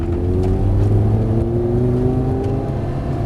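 Lamborghini Gallardo engine pulling hard on the Nogaro track, a loud sustained roar with a slowly rising pitch, heard close from inside the car.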